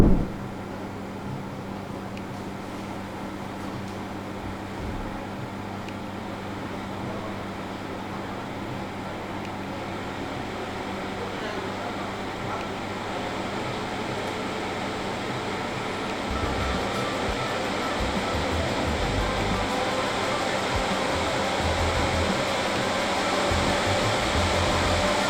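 Dyson TP09 air purifier fan at maximum setting, a steady, loud whooshing roar of moving air that holds constant and swells slightly partway through, with no voices.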